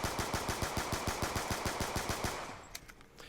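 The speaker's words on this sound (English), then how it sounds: "You can see that rapid fire is a lot smoother this time." Rapid-fire video game gunfire driven by a Viking macro controller, heard as a fast, even stream of about twenty evenly spaced shots that stops abruptly, followed by a few faint clicks.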